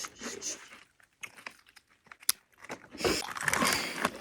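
Plain potato chips crunched while eating, several crisp bites and chewing crackles close up, loudest toward the end, with brief packet crinkles between.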